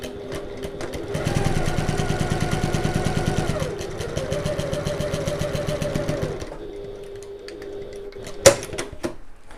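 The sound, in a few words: sewing machine stitching along a diagonal line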